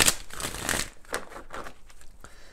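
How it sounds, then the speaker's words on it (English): Tarot cards being shuffled by hand in a few quick papery riffling bursts, close and fairly loud at first and then softer, with no talking. "let's go ahead and do four major shuffles"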